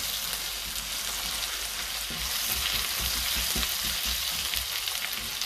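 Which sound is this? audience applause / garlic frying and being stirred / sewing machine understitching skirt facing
garlic frying and being stirred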